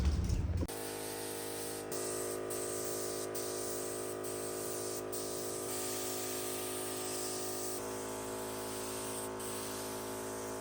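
A dresser gets spray painted, a continuous close hiss of the can running for about ten seconds with brief gaps and shifts in tone as the nozzle is pressed and released.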